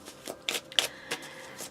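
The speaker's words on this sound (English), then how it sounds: "as I shuffle these cards to see what else" Tarot cards shuffled by hand at close range, giving several quick, soft riffling bursts spaced unevenly over a quiet background.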